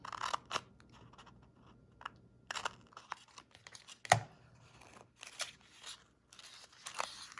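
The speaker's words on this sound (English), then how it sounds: "I'm going to cut out the part that I want." Scissors snipping through a paper border sticker to cut out one section, a series of short, quiet crisp cuts and crinkles spread irregularly, close by with no talking.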